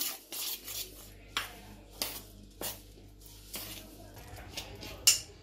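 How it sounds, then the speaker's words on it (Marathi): Curd is whisked into dry-fruit idli batter in a bowl with repeated scraping, clinking strokes at roughly even intervals. Each stroke is close and crisp, with quieter rubbing in between. "दही चांगली याच्यामध्ये फेटून घ्यायची"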